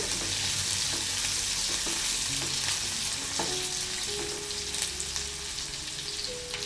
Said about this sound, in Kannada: ಈಗ ಮೊದಲೇ ಕಟ್ ಮಾಡ್ಕೊಂಡಿರೋ ಬೆಳ್ಳುಳ್ಳಿನ ಹಾಕ್ತಾಯಿದ್ದೀನಿ ನಾನಿಲ್ಲಿ ಅದನ್ನು ಚೆನ್ನಾಗಿ ಫ್ರೈ ಆಗಬೇಕು